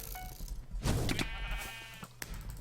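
Sheep from the Minecraft mini game Sheep Quest bleat in a few short, close, fairly loud calls that rise and fall over a quiet game background.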